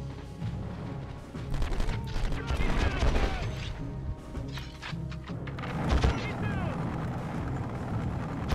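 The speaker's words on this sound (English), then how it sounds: "Who's shooting at me?" Gunfire and explosive impacts from Conflict: Desert Storm, with crashing thuds and scattered shots in a busy, noisy battle mix and someone talking over parts of it.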